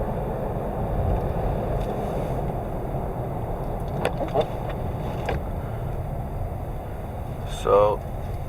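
A car drives through the Portlands in Toronto with a continuous low road rumble and cabin noise, while a person talks over it and a few faint clicks break through.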